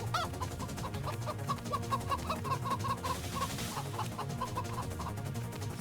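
A chicken in the Roblox video game clucks in a steady stream of short, repeated calls, heard over a busy, continuous background of game music and noise.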